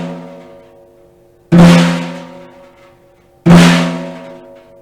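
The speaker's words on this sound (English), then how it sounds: "Let's review how to play a Flam. A Flam is one of our rudiments in snare drums." Two snare drum flams struck with sticks, about two seconds apart, each a sharp crack with a buzzing snare decay, loud and close with no talking.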